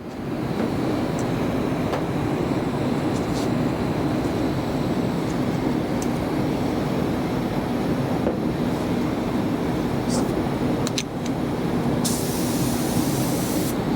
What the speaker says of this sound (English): the proper way to regulate a spray gun is adjusting the air at the wall